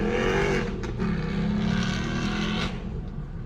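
A car drives past outside, a steady low engine drone with rushing road noise that rises slightly then eases, moderately loud and without talk.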